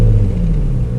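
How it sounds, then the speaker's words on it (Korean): Porsche Panamera 4 Executive mild-hybrid idling in normal exhaust mode, a steady low rumble of engine and exhaust heard close and alone. "배기 소리 한번 들어볼게요."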